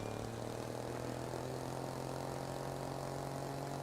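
Vehicle engines on a built machine in the video game Trailmakers, a steady, propeller-like droning whir that holds constant and fairly loud with no talking.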